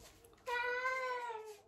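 A domestic cat gives one drawn-out, clear meow at close range, rising and then tapering off over about a second in a quiet room.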